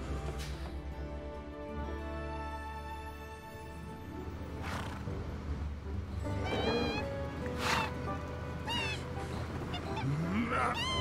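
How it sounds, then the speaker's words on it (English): Birds honking in Final Fantasy VII Remake Intergrade, several loud nasal calls and squawks scattered over a steady game soundtrack, with harsher cries bunched near the end. "What is it with these damn birds?"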